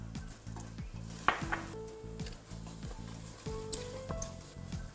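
Dark curry powder hits a pan of frying coconut and mustard seeds for a Sri Lankan shark-meat curry, giving a steady close sizzle with scattered pops and occasional scrapes of a utensil.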